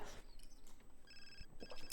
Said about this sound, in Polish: Do kogo dzwoni telefon?